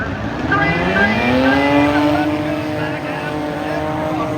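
Race car engines at Langley Speedway scream past, pitch sweeping upward as they accelerate, loud and close, then fading slightly into a continuing roar.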